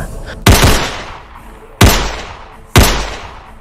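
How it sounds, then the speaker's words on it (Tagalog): Three pistol shots ring out in an action-horror audio drama, each a sharp loud bang followed by a decaying echo, spaced about a second and a half apart. "dito na nila binunot ang kanilang mga pistola at agad na mabilis na pinaputukan ang mga nilalang"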